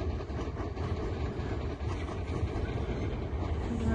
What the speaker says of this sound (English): Lots of trains come by here.